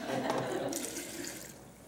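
Water running from a tap into a cooking pot for a pot of eggs with mushrooms and onion, a loud close gushing fill that tapers off after about a second and a half.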